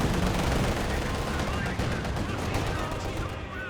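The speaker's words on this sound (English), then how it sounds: "Good shots there on the Volkswagen." Gunfire in the Company of Heroes 2 strategy game: dense, continuous machine-gun and rifle fire over battle noise, sustained and fairly loud, with a commentator talking over it.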